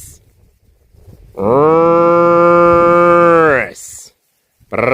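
A Katunguru cow lets out one long, loud, close moo lasting about two seconds, rising and then falling away, framed by brief rustling and faint background noise before and after.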